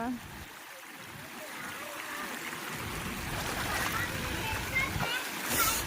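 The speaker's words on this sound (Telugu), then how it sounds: "చూడండి ఎన్ని నీళ్ళు వస్తున్నాయో" Floodwater from a night of heavy rain rushes steadily through a housing venture in Anantapur, a broad continuous watery roar with splashing, while people talk over it.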